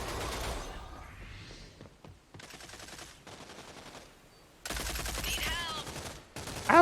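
Gunfire in the shooter game Rogue Company, several bursts of rapid automatic shots separated by short pauses, loud and close, with game voice effects and a player talking in places.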